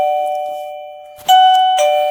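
A Nestling wireless doorbell chime kit with 55 melodies plays a loud, close, ringing electronic melody of sustained bell-like tones, with two fresh struck notes partway through.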